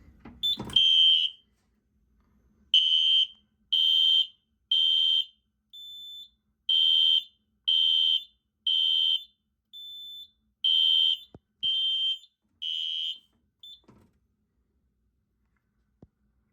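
A System Sensor SpectrAlert P2475RL fire alarm horn, wired to a 4010ES panel and triggered by a manual evacuation, blares in a long series of loud, evenly repeated horn bursts. The bursts stop abruptly and leave near silence.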